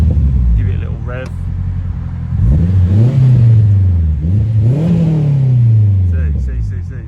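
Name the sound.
turbocharged Honda Integra DC5 engine revving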